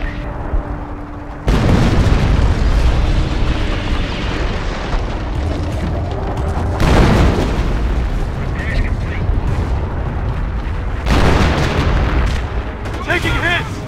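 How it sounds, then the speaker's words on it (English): Heavy artillery shells explode in a World War II battle in Company of Heroes, with loud booming blasts around 1.5, 7 and 11 seconds over constant rumbling battlefield noise and gunfire, while soldiers shout. "Artillery!"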